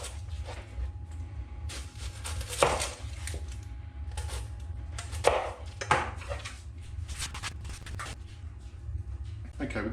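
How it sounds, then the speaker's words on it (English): Knife chopping an onion on a cutting board in a home kitchen, a few irregular sharp thuds and cuts spaced apart, close and clear over a low steady hum, with a person talking in between. "I'll just start by chopping up the onion"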